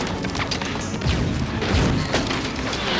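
Gunfire on a film stunt shoot in mountain cliffs, heard as a few heavy booming reports over rumbling outdoor noise, moderately loud and unaccompanied by voices.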